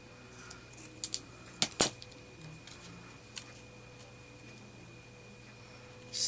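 Scissors cut down paper for a toilet-roll junk journal, a few faint, close snips and clicks clustered early, including one sharper snip, over a quiet room hum.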